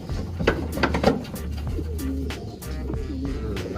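Pigeons coo nearby in a series of soft, rolling, throaty calls that rise and fall, overlapping with light rustling and a few brief chirps.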